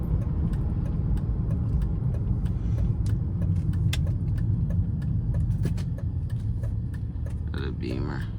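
A BMW E39 sedan drives along on a holiday outing, heard from inside as a steady low engine and road rumble with occasional clicks and thumps, a brief voice near the end.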